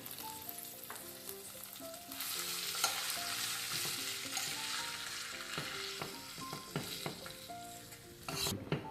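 Mashed potatoes with salt, red chilli and turmeric being stirred in a pan, a soft scraping and sizzling mix heard close and quiet, with a few light clinks, under faint background music.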